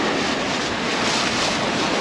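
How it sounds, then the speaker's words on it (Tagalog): Rough, angry sea at dawn, with dense, continuous surf roar and wind buffeting the microphone, loud and unbroken with no distinct wave breaks. "Nangangalit na yung tubig, oh. Nangangalit ang dagat."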